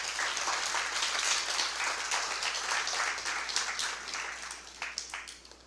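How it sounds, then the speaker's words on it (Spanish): A church congregation gives sustained applause, a dense wash of many hands clapping at moderate distance that gradually thins out toward the end. "Denle un fuerte aplauso al Señor."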